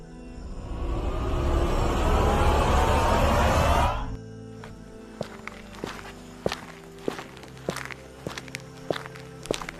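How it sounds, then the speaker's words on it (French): Approaching footsteps used as a sound effect in a French narrated story; dense rushing noise fills the first few seconds, then a series of distinct, moderately close steps lands irregularly on their own with no voices. "quand soudain on entendit des bruits de pas"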